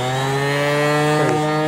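An electric finishing sander fitted with sandpaper runs steadily, giving a continuous close-up motor buzz with no talk.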